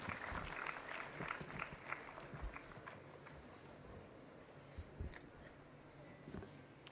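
Faint, steady applause from an audience welcoming director Purnachandra Rao at the Career Clarity Conclave, a dense patter of claps lasting several seconds with a few sharper individual claps standing out.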